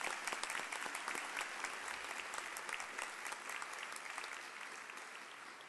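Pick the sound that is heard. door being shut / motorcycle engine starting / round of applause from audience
round of applause from audience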